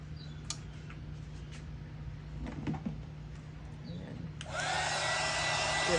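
A heat gun switches on partway through to blow over epoxy on a tumbler cup, a sudden loud steady whooshing roar that keeps going after a quiet stretch with a few small taps.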